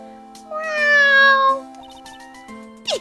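A video-game cat named Shu gives a clear, drawn-out meow, loud and close, followed by a quieter short chirp and a brief rustle near the end.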